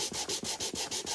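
Sandpaper worked back and forth over a wooden Bluetooth speaker box, progressing through 150, 180 and 220 grit, giving a close, steady rasping in about six even strokes with brief pauses between them.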